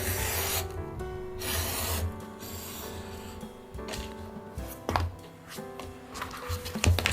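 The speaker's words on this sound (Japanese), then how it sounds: "それでは床面を磨いていきます。" The flesh side of 1.2 mm leather for a card case is rubbed and polished, with repeated close rasping strokes of varying length and brief pauses between them.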